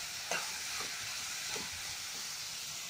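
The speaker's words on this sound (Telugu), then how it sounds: "ఇప్పుడు నేను బంగాళదుంప పీసెస్ కూడా యాడ్ చేస్తాను" Potato pieces fry in a samosa curry filling, giving a soft, steady sizzle with a few faint stirring scrapes, quiet and without talk.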